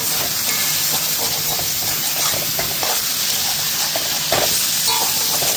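Greens, yardlong beans and potato cook down in a pan with a loud, continuous close sizzle and hiss as the water dries off, with faint stirring scrapes mixed in. No talking.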